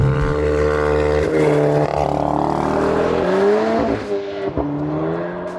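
A VW Golf MK8 launches hard from launch control, its engine held at high revs then surging as the car pulls away, loud and continuous with rising harmonic engine tones throughout and no talk.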